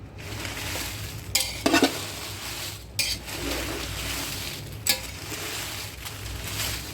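Red chillies fry in about half a ladle of oil in a pan for a spicy village-style red chilli masala, a steady sizzle broken by several scraping stirs and clinks of the spoon against the metal, with no voices.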